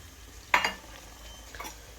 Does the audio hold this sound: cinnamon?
yes